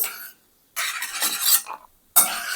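Cashew nuts frying in a pan come through as three loud, close bursts of sizzling and scraping as they are stirred, separated by short silences, with no talk.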